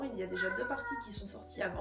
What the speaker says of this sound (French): Désolée pour mon chat qui miaule, elle est en chaleur.